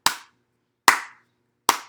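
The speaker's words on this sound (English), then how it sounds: "Clapping." Three sharp hand claps, evenly spaced and close, each ringing out briefly before silence.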